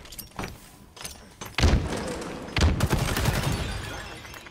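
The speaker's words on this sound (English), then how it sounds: "I'm getting shot at in the back, dude." Gunfire in Halo Infinite ranked Capture the Flag on the Argyle map: scattered shots early, then heavy bursts erupt, sustained loud rattling fire near and overlapping to the end.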